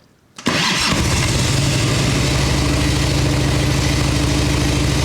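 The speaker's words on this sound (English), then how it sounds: "3 days of messing with the carburetor for it to sound like that on idle. That's full choke." A 1989 Harley-Davidson Ultra Classic with a carbureted engine catches after a brief crank and settles into a loud, steady, lumpy idle on full choke, close up and continuous.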